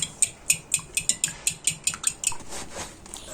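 A whisk beats a mixture of milk and salt in a bowl, with rapid, regular clinking strokes against the sides, close and fairly loud, gradually blurring into a steadier swishing toward the end.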